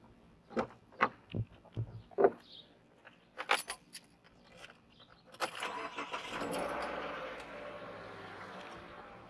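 A few clicks and knocks, then an engine cranks and catches at once, settling into a steady, fairly loud running rumble that continues to the end.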